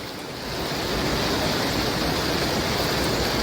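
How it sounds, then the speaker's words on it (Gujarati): Water from a dam pouring out continuously as waste in winter, a steady loud broadband rush that swells in the first second and then holds even, with no voices. "પાણી સવારથી ચાલુ છે."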